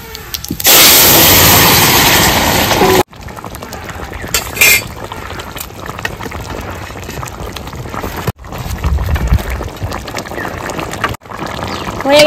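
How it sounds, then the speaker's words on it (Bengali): Vegetables for a silver carp and kohlrabi fish curry hit hot oil with whole cumin, giving a loud burst of sizzling and bubbling at first, then a steadier simmering crackle with occasional clinks of a utensil. "ঢেলে দেবো তরকারি।"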